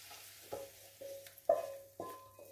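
Mushrooms sautéing in oil in a pan, made for a stewed rabbit dish, give soft sizzling with four clear stirring scrapes at an even pace, each followed by a short ringing tone, heard close and fairly quiet.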